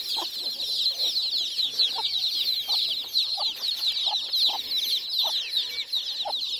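Chickens cluck in short, repeated bursts close by at a farm, over a constant high, shrill drone of insects.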